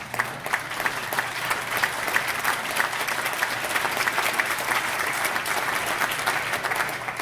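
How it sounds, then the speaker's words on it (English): Scattered, modest clapping from a church congregation during a sermon, a steady patter of hands filling the room with a faint murmur of the crowd underneath. "Just a few claps on that one."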